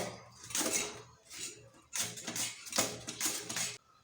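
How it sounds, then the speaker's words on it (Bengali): Potatoes are sliced thinly on a grater for chips: quick rasping scrapes, a few separate strokes and then a faster run of them, close and fairly quiet with no talk. "খুব সুন্দরভাবে চিপসের আলুগুলো কাটা হয়ে যাচ্ছে"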